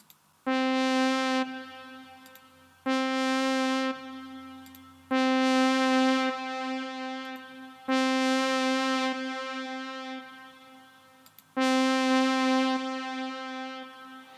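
A synthesizer from the Terminator theme sounds a series of long buzzy notes washed in delays, Big Sky reverb and plate reverb, each phrase trailing off into echoing tails, moderately quiet with no talk.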